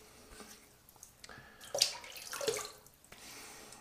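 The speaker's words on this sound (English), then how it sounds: "All right, wet my face." Water splashing as a face is wetted by hand at a sink before shaving with a Yaqi half DE razor, a few soft close splashes and drips clustered in the middle of an otherwise quiet moment.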